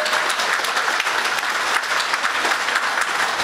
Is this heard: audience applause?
yes